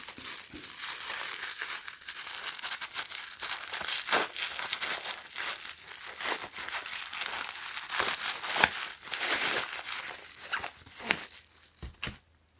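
A camping sleeping bag is folded and stuffed into its sack with close, continuous crinkling and rustling of synthetic fabric, scrunching in uneven bursts throughout.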